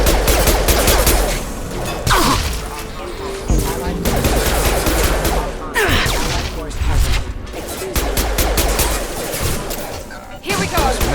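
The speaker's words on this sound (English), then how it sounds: "Shoot them before they take out your shield." Rapid gunfire and explosive combat sounds from the video game Mass Effect 2, a dense, loud, sustained fusillade of shots and impacts running throughout, with game effects and brief voices mixed in.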